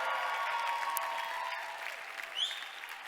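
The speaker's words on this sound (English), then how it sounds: "Let's give Morgs a big round of applause right there." A talk audience breaks into warm, continuous applause, a dense patter of many hands that fades gradually, with a brief whistle or whoop near the end.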